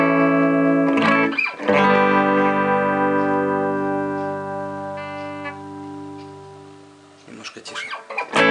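Cort G110 electric guitar played through a Kustom Sienna 16 combo amp, giving a loud distorted chord that rings out and slowly decays, framed by brief scratchy picking at the start and end.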